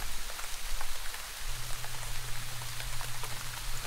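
Steady rain falls and patters on a surface, a continuous close hiss with no voices, while a low hum joins about halfway through.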